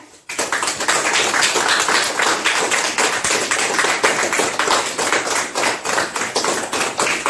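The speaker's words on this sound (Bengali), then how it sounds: "সবাই একটা হাততালি হয়ে যাক" A group of people applaud at a creator award gathering, with dense, sustained hand clapping that starts abruptly and carries on loud and close until the end.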